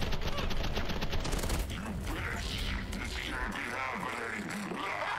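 Sprawl video game gunfire from SMGs and pistols, a busy run of quick shots and mechanical clatter over game noise, with a voice faintly underneath.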